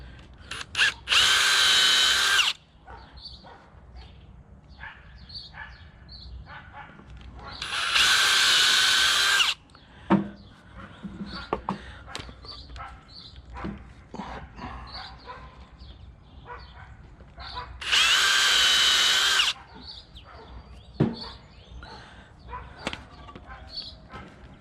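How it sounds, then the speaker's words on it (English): A power drill bores holes into wood for stair building, three loud whirring bursts of a few seconds each, separated by quieter handling clatter, knocks and some dog barking in between. "Then I'm going to go ahead and drill them out."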